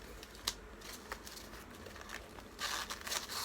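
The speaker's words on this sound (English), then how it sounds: "I can get the styrofoam out." Styrofoam packing pulled from a cardboard box while unboxing a crystal ball with a stand, giving soft crinkling, squeaky rustles with a few sharp scrapes and a louder burst of friction near the end, close by and without talk.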